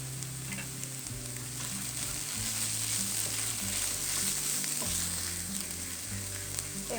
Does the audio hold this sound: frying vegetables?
yes